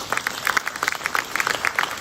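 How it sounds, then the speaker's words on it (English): Conference audience in a work-retention session applauding in a brief burst of dense, fairly steady clapping from a moderately sized room, heard from within the crowd. "Give yourselves a round of applause."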